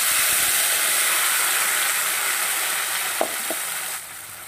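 A spice paste of ginger, onion, green chilli and tomato frying in a pan for a fish curry, giving a steady, loud, close sizzle throughout with a couple of brief clinks near the end.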